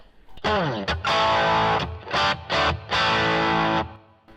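Distorted electric guitar through the second overdrive channel of a Blackstar HT-20R MKII amp plays a few heavy overdriven chords and bends, each chord cut off briefly before the next, loud and close.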